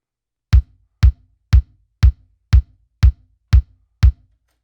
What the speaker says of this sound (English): The reason I made this is because I made a 4x4 kick.